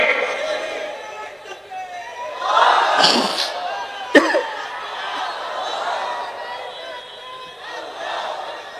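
At a religious gathering in Bangladesh, a large crowd chants a takbir together, the voices swelling into a loud collective shout before fading back into crowd murmur.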